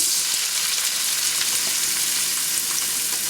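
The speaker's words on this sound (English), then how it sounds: "Now this potato, boiled potato, I'll fry for a little while." Boiled potato pieces fry in hot ghee in a pan with a loud, steady, close sizzle and a constant bright hiss, with no voices.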